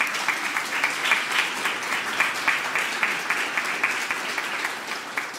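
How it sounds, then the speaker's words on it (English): A large audience at a university medical school awards ceremony applauds families and friends, a steady, even wash of clapping from many hands that holds at the same level throughout. "So can we give them a big round of applause?"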